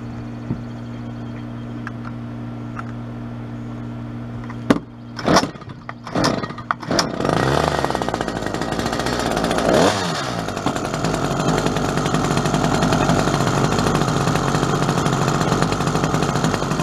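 A Stihl HS 46 C-E hedge trimmer starts from cold after a few sharp pull-cord tugs, then catches into a loud, steady buzzing two-stroke idle that runs on alone.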